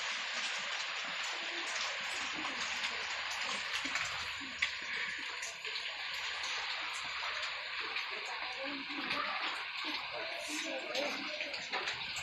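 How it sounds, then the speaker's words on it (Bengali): Light rain falls at night during a storm in Bangladesh, a constant soft hiss and patter of water, with a faint voice now and then underneath. "বৃষ্টি দিচ্ছে একটু বৃষ্টি হয় এই রাইতে"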